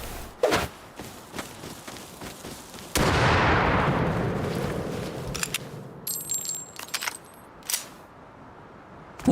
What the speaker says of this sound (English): I'm throwing a grenade at him.